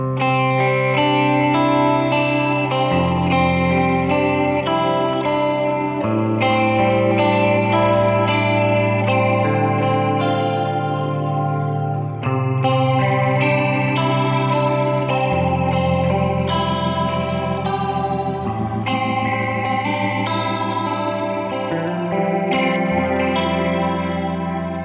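Electric guitar run through a Kemper rotary modulation effect rings out in sustained, swirling chords with a chorus-like wobble and a slight distorted edge, continuous and full for the whole stretch with no talking.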